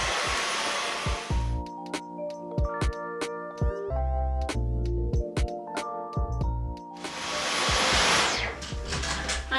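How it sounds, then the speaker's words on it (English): A Dyson vacuum cleaner whirs loudly at the start and again near the end, used on household surfaces, with a stretch of tonal, music-like sound and sharp clicks between the two bursts. "Let's finish this off with a Dyson vacuum."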